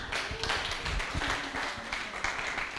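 An open mic night audience claps steadily for nearly three seconds right after a percussion performance, a dense patter of hands at moderate distance with a little background voice mixed in.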